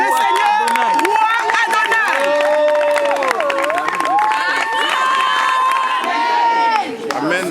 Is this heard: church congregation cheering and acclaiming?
yes